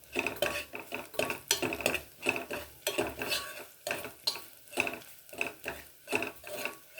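Grated coconut frying in ghee in a pan for rice kalathappam, stirred with a spoon in a steady run of quick, close scraping strokes over a light sizzle, no voices.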